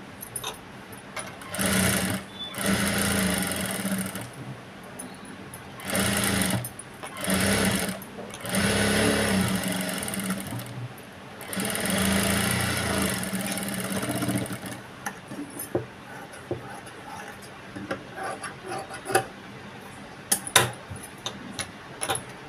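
A sewing machine stitches a blouse lining in several bursts of rapid mechanical clatter separated by short pauses, followed by quieter handling clicks and taps.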